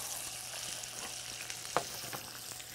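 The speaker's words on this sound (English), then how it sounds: "I'm gonna sear this skin side down. That's what you want, right? You hear that?" Salmon fillet searing skin side down in a hot pan gives a steady, fairly quiet sizzle and crackle, with a few brief pops and a small scrape partway through.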